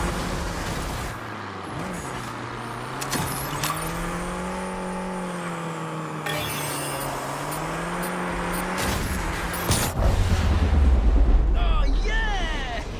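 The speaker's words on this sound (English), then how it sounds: "Big wreck to wake the opposition up" Cars roar and collide in the Destruction AllStars video game, engines whining and shifting in pitch over a dense, loud mix, ending in a heavy low crash burst near the end.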